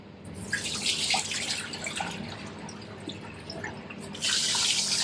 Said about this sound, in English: Just get in and move the rice around on the water.